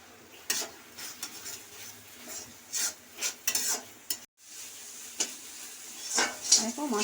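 A spatula scrapes and stirs lotte fish curry with fried potato in a pan over low heat, rhythmic close scraping strokes over a soft sizzle, with no talk.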